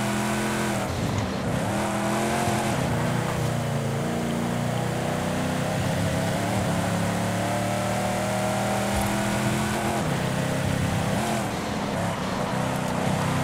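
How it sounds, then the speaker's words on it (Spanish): A race car engine in Forza Horizon 5 revs and climbs through its gears, rising and falling in repeated pitch sweeps over a steady, close, loud drone, with no talking. "Llévenlo al límite de revoluciones"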